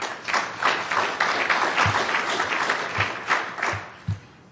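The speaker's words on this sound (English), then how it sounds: "Let's give him a round of applause." An audience at a technical conference on variable frequency drives gives a round of applause after a speaker, a dense steady wash of many hands clapping, loud and sustained with a few sharper individual claps.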